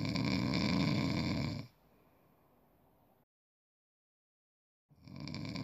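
A person snores in bed, one loud rasping breath followed by a quieter trailing exhale, a silent pause, then another snore beginning.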